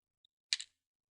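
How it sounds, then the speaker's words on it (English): Computer keyboard typed on during Linux script editing: a faint tiny tick, then a sharp double keystroke click, close and isolated in an otherwise silent room. "quit and save by hitting escape to go back to the command mode and typing in"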